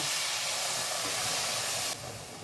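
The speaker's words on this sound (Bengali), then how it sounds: "এবার আমি এতে দিয়ে দেব 1 কাপ মতো জল" Poppy seed paste frying in oil gives a loud, steady steam hiss as about a cup of water is poured in, then drops suddenly to a softer hiss near the end.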